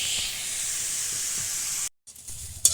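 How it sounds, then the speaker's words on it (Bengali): Potatoes frying in a pan at home, a steady close hiss and sizzle that cuts out abruptly near the end before a brief return. "তাই দেখো এরকম করে ভাজতে দিয়ে দেবো।"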